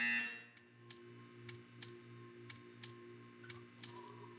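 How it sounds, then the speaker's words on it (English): A regular buzzer in the Portal 2 video game pulses steadily about three times per second, faint and mechanical, over a low constant electrical hum with no talking. "You will hear a buzzer."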